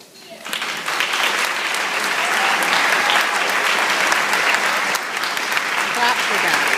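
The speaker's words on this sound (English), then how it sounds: "Clap for that" A crowd at a high school band concert breaks into applause as the director is introduced, the clapping rising quickly and staying loud and dense throughout.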